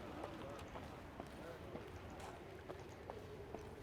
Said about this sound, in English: The sound of approaching hoofbeats made Meve turn to see Reynard spurring on his panting horse, galloping at a breakneck speed towards her.